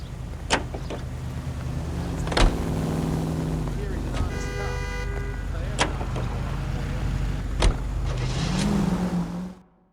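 Car driving in the video game L.A. Noire, a steady engine rumble with sharp clicks and knocks at intervals and a brief tonal chime midway, ending in a fade.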